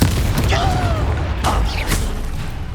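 A Confringo blasting spell in Hogwarts Legacy sends out a whooshing, sparkling burst followed by a booming impact, close and loud over a busy background of combat noise, with another short crackling blast soon after and voices talking.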